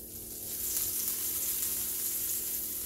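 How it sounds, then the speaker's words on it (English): Eggs sizzle steadily in melted butter in a frying pan, producing a close, even hiss that swells slightly after the first moment and continues without talk. "So now we are going to add our little fluffy eggs into this pan."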